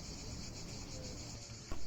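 Cicadas chirring in summer in Rovinj, Croatia, a steady, dense, high-pitched buzz that fills the whole clip at a moderate, even level, with a brief sharp click near the end.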